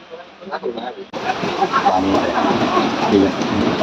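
Steady rain pours down loudly, starting abruptly after a moment of quieter talk and continuing as a dense hiss with voices underneath.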